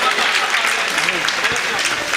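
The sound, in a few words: applause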